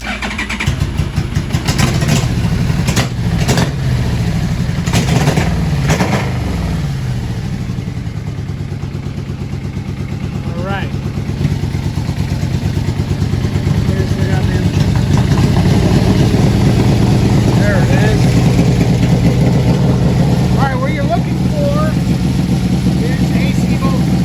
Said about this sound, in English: you're gonna fire the bike up